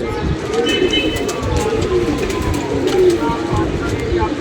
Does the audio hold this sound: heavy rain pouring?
no